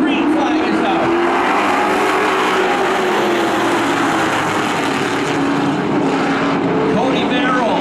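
Late model race cars roar around Wiscasset Speedway at the green flag, a dense, continuous engine drone from a pack of cars that stays loud throughout, with an announcer talking over it.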